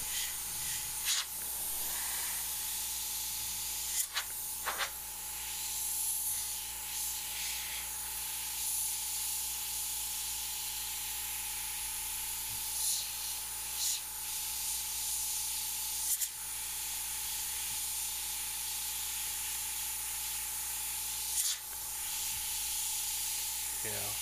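An airbrush sprays paint over a stencil mask while a crow is painted, a steady continuous hiss with brief breaks, close and fairly quiet throughout.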